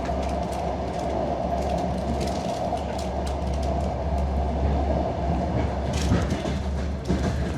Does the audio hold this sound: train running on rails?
yes